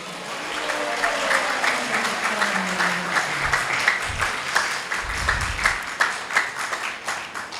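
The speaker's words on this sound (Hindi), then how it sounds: "नित्यानंद का नाम लेके एक बार ताली बजाएंगे ना" Audience at a devotional talk on the Chaitanya Bhagavat claps together, a loud, fairly rhythmic burst of many hands sustained throughout, with low tonal sounds and a brief thump underneath.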